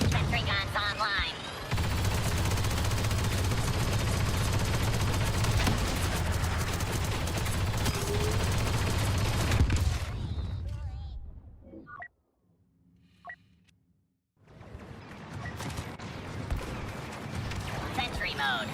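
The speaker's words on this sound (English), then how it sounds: "Sentry guns online." Sentry guns in a video game fire in long sustained bursts that dominate the scene, break off into near silence with a few faint mechanical clicks, then resume, with game voices speaking over the action.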